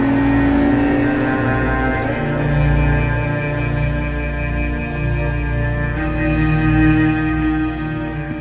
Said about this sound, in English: you're going to hear the exhaust note of that engine, the V12 engine on song